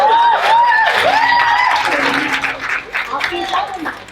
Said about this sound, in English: Y'all keep clapping